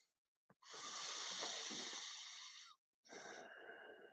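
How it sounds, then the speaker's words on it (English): Slow, audible Ujjayi breaths through the nose during a vinyasa yoga class, a long whisper-like hissing exhale followed by another after a short pause, soft and close. "exhale out through the nose. So now we're coming into our Ujjayi breath"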